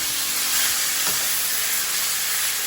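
NY strip steak frying in butter with garlic, a loud, dense, continuous sizzle close by with a faint clink partway through.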